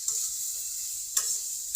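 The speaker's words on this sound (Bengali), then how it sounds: "এবার ভালো করে নেড়ে নেব" Curry with turmeric being stirred in a pan, a steady faint sizzle broken by a few brief scraping strokes, close and without voices.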